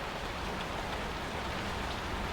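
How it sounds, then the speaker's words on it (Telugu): Rain falling steadily in a broad, even hiss, loud and continuous with no breaks and no voices. "వర్షం ఆగేటట్టు కనిపించట్లేదు."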